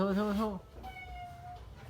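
A cat gives one short, close meow at the start, followed by a faint, thin tonal sound over a low indoor murmur.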